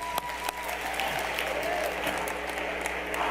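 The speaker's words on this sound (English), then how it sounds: "give them a round of applause" Applause from a convention audience at a 2013 Vemma event fills the whole stretch as a dense, steady wash of clapping from a large crowd, loud and continuous.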